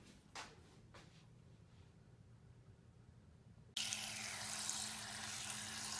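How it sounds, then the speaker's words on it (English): Water pouring steadily into a container to cover sea moss set to soak, a close, constant rushing splash that begins abruptly after a few soft knocks and handling clatters. "putting this in water and just covering the top of the sea moss so that it can soak"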